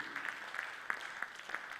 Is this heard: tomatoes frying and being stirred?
no